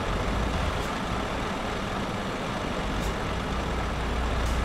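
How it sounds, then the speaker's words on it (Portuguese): Heavy trucks rolling into a busy convoy in Euro Truck Simulator 2, a steady dense rumble of diesel engines with faint hissing air brakes, continuous and fairly loud with no talk. "E agora os caminhões começaram a chegar"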